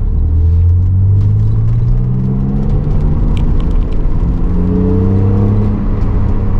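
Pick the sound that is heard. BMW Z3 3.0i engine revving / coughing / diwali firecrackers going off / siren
BMW Z3 3.0i engine revving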